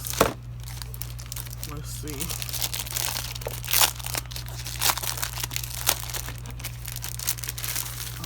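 A plastic sticker storage box is handled close by, giving steady crinkling, crackling and rustling throughout, with someone talking briefly over it.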